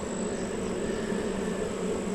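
Honey bees buzz steadily at an open hive during a beekeeper's inspection, a dense, continuous drone filling the whole short clip at even loudness with no talk.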